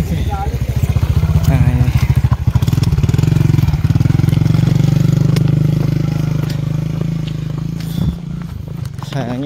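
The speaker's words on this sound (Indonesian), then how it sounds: "Kita harus minggir lagi karena ada ojek di belakang" An ojek motorcycle taxi climbs a mountain trail, its engine chugging loud and close in a steady throbbing putter that swells and holds, while a person speaks briefly over it.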